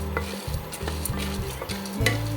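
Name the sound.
dry roasting roasted gram (pottukadalai) in a pan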